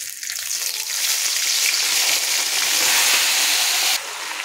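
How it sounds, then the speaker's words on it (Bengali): Marinated mutton sizzles and crackles steadily in hot oil in a pan for a mutton curry, a loud continuous hiss that cuts off abruptly near the end. "মটনটা তেলে দিয়ে একবার আমি নাড়াচাড়া করে নিয়েছি।"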